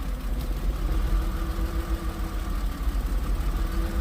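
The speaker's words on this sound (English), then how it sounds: "she's still rough idling a little bit" A Porsche engine idles roughly and unevenly nearby, a steady low rumble with slight irregular pulsing and no talking.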